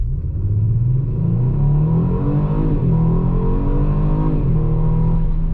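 A 2019 Kia Stinger GT AWD V6 launches from a stop at full throttle, its engine note rising and climbing through gears with brief dips at the shifts, loud and steady with a deep rumble.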